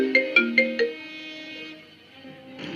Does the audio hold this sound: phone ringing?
yes